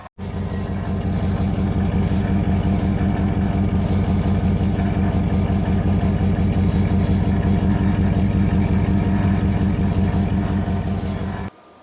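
A 1998 Dodge Ram pickup with a 5.9 Magnum engine idles steadily at the exhaust, giving a loud, close, even low rumble with a regular pulse that runs unbroken for about eleven seconds before cutting off abruptly.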